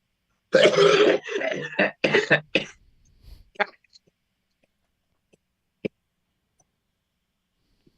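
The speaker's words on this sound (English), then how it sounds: "You coughed." A single close cough from a person, heard as a short burst of speech-like noise followed by a few faint throat sounds and clicks in an otherwise quiet room.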